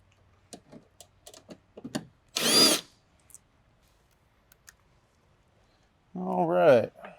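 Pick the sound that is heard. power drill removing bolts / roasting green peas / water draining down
power drill removing bolts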